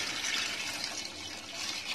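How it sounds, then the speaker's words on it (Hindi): About a litre of water is poured into a cooking pot for vegetable pulao, giving a steady, continuous splashing rush for a couple of seconds with no voices. "और अब मैं इसमें पानी डाल दूंगी।"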